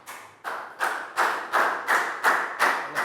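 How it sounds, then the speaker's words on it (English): Students in a primary English lesson clapping in unison, about eight evenly spaced group claps in a steady rhythm, fairly soft with no talking. "Big high five and round of applause for Down."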